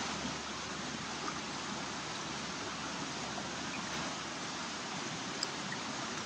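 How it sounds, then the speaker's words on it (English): Creek water flows in a steady, broad rushing hiss, constant and moderately close with no other sounds standing out. "being in a hammock in the middle of a creek surrounded by all this beauty"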